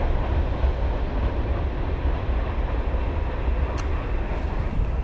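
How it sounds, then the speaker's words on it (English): A train rumbles past at the Mason-Dixon line crossing into Maryland, a steady, loud, broadband roar filling the whole stretch with no break, heard up close outdoors. "So a train just went by"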